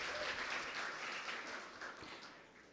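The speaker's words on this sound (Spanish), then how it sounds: "Fuerte el aplauso para Govil, uno de nuestros patrocinadores." A crowd at a 2016 regional oratory contest final in Panama's Darién province applauds a sponsor, with a soft, diffuse wash of clapping that gradually tapers off.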